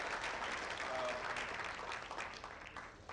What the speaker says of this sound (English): Let's give a round of applause to our chief guest as he makes his way